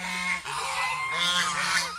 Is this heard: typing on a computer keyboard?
no